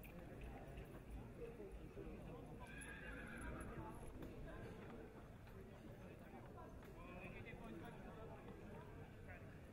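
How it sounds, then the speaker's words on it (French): A horse's hooves thud in a steady trotting rhythm on soft ground in a show ring amid a busy outdoor crowd, with a brief whinny and voices calling out. "Allez, au trot. Au trot, s'il vous plaît."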